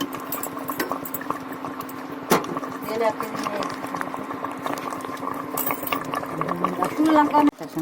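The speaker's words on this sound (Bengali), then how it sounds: "গ্যাস আস্তে করে দিয়ে লো ফ্লেমে দিয়ে এটাকে আস্তে আস্তে ধীরে ধীরে কষাবে" Meat curry simmers on a low flame while it is stirred, with steady bubbling and occasional utensil clinks against the pot. A voice talks over the cooking.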